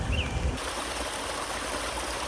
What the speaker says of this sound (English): We are completed with the natural waterfall.